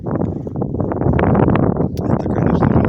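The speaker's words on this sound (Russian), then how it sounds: "Ну, как вы ощущаете, ветер продолжается." Wind blows over the Ukhta river during a fishing trip, a steady, close buffeting roar across the microphone with gusty swells and no speech.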